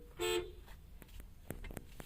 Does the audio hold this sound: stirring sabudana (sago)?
no